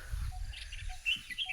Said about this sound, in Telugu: పక్షులు ఎలా అరుస్తున్నాయో